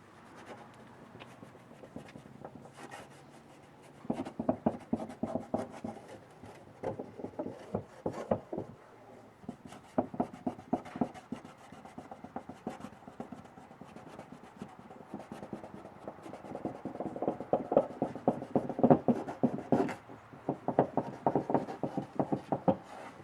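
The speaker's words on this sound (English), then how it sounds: "we can clean up around where that silicone was" Old silicone is rubbed and scrubbed off an RV surface with alcohol, a close, irregular scraping and rubbing that comes in dense bursts of strokes and grows louder after the first few seconds.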